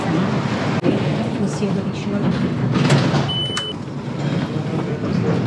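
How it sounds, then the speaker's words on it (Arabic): Tram riding through Milan, heard from inside as a steady rumbling ride noise with clanks and a brief squeal, while a voice talks over it. "هذا الترام الآن يا أخوان راح يوصلنا إلى المكان اللي نبغاه على طول"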